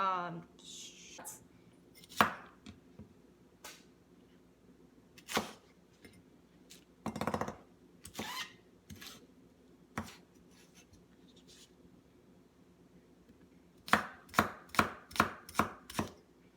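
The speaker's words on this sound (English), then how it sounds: "I'm just gonna cut it into" Green onion cut with a knife on a board, scattered sharp chops with pauses, then a quick run of about six evenly spaced thuds near the end, close and crisp in a quiet room.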